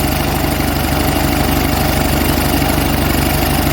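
An Onan US military generator engine runs steadily with a rapid, even thumping, close and loud, no voices.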